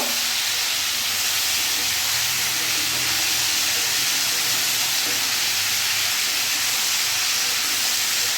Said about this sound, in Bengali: এবার সবজিগুলো আমি ভালো করে নাড়াচাড়া করে একটু ভেজে নেব